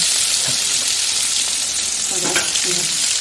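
Spice paste and tomato fry in a wok with a loud, continuous sizzle, broken by a few soft stirring scrapes. No voices are heard.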